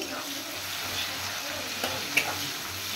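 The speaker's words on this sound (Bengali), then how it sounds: "পেঁয়াজটা একটু ফ্রাই করে নেব।" Onions frying in hot oil for an eggplant curry, a steady soft sizzle with a couple of small clicks near the end, close and low in level.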